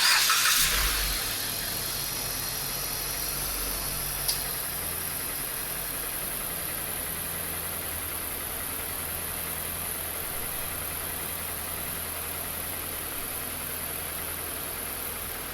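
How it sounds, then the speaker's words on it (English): A vehicle engine starts and settles into a steady, low idle with the air conditioning running, a constant hum and hiss holding evenly throughout. "start the vehicle, turn the AC on so it can equalize the hoses"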